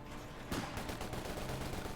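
Machine gun fire in the Company of Heroes 2 strategy game: a dense, continuous rattle of gunfire that stays steady and fairly loud over a crowded battle backdrop, with a sharper burst near the middle.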